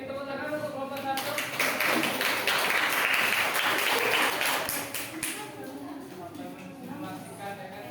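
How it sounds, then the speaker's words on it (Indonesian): A group at a university teaching session claps for the first team, a dense burst of many hands that swells, holds for several seconds, then tapers off into a quieter room with a few voices. "tepuk tangan untuk kelompok 1"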